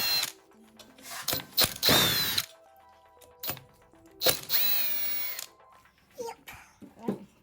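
A power tool removes T30 Torx bolts from a 722.9 transmission in short, loud whirring bursts separated by pauses, up close, with someone speaking briefly between them.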